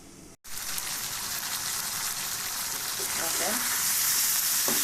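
Potato and pointed gourd pieces fry in oil with spices in a pan, a loud continuous sizzle that cuts out for a moment at the start and then grows slightly fuller, with faint scraping stirs.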